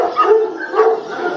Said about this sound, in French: Vous entendez? C'est des chiens abandonnés dans des box.